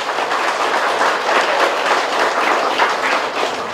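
A hall audience at a Buddhist lecture claps in a loud, dense, continuous burst that holds steady without pause for several seconds.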